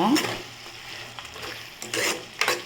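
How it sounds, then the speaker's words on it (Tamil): Grated coconut is stirred into a spinach chutney mixture in a hot pan, giving a soft close sizzle under a few spoon scrapes and stirs, with no talking. "நம்ம தேங்காய் வச்சுருந்தோம்ல திருவி அதை சேர்த்துக்கலாம் சேர்த்து நல்லா வதக்கிக்கோங்க"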